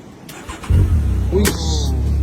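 A four-wheel car engine is started, with a clunk, a short cranking burst and then the engine catching into a steady close idle, with a brief talking voice over it.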